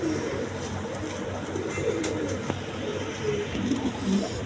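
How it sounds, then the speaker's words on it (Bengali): High-flying Giribaz pigeons in a loft give soft, low cooing calls under a steady hum of background noise, fairly faint and continuous. "এইখানে এক পেয়ার কবুতর আছে দেখেন, হাই ফ্লাইং গিরিবাজ কবুতর"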